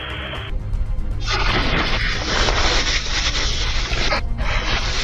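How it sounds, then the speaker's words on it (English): A truck's compressed natural gas tank bursting in a fire, a loud sustained roar of blast and fireball noise with crashing, booming turbulence that fills the whole clip, close and heavy, with no speech. "one of the two CNG tanks of the vehicle suddenly exploded, creating a massive fireball and damaging a nearby transformer"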